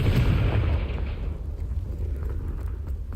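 Confringo fire blast spell going off in the Hogwarts Legacy video game, a loud broad explosive burst at the start that rolls into a rumbling, crackling tail fading over a few seconds.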